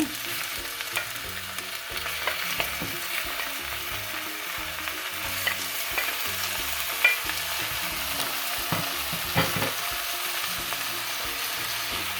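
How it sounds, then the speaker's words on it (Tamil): Boneless chicken pieces frying with tempered onions in a pan for chicken curry, a continuous close sizzle with intermittent stirring and scraping sounds, steady and without speech. "இனி நான் இறைச்சி போட போகிறேன். எலும்பில்லாத இறைச்சி இது."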